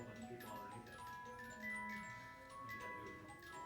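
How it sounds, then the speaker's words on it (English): A household cuckoo clock ticks quietly in a steady rhythm, with soft melodic chime tones ringing faintly underneath. "That's my cuckoo clock in my house."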